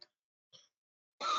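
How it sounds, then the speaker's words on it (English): A person in an online anatomy class clears their throat with a little cough: two faint short catches, then a louder, harsher rasp close to the microphone at the end. "I have a little cough"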